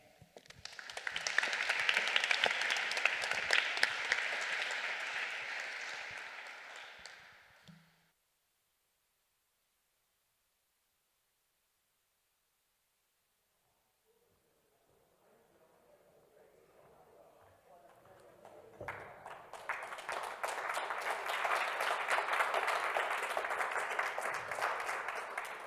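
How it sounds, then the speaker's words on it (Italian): An audience bursts into applause at an evening art talk, dense clapping that fades out, falls silent for several seconds, then swells back loud and sustained. "Troppo buoni, già subito così all'inizio, un applauso"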